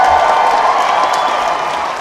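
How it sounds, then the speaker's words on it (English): A Comic-Con panel audience in a large hall breaks into sustained applause and cheering, a dense steady roar of clapping that fades slightly at the end. "You guys, give them another round of applause."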